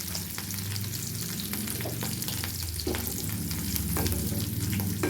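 Curry leaves and cashews hiss and sizzle in hot ghee for a South Indian venn pongal tempering, a continuous close crackle with scattered pops and the occasional scrape of stirring.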